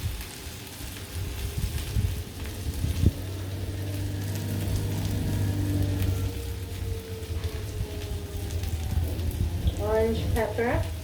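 Vegetables such as orange pepper and mushroom fry in a pan, a moderate continuous sizzle with stirring clatter, heard up close under a low hum while a person talks.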